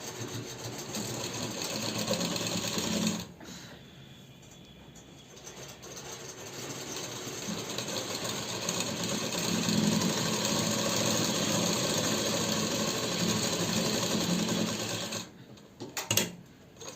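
A sewing machine stitches a sozni suit in rapid, buzzing runs, pausing briefly after a few seconds, then running long and steady before stopping again near the end.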